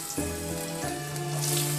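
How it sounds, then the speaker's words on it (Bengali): Chopped potatoes hit hot oil in a pan, a moderate sizzle rising briefly with some low hum beneath, short and without speech. "আগে থেকে কেটে রাখা আলুগুলো দিয়ে আমি ভালো করে ভেজে তুলে নেব।"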